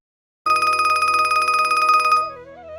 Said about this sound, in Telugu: ఒకరోజు కేశవరావుకు ఏదో ఫోన్ కాల్ రావడంతో హడావిడిగా హాస్పిటల్ వద్దకు బయలుదేరుతాడు